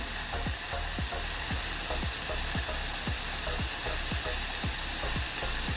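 Vegetables for a pulao sizzle and cook in a pan, a constant loud frying hiss broken by regular, rhythmic scraping strokes of a spoon stirring them, close and without talk.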